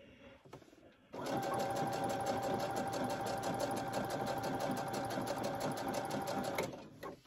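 Sewing machine stitching a hooded towel, a close, steady rapid whirring chatter that starts after a brief pause and runs continuously for about five and a half seconds before stopping.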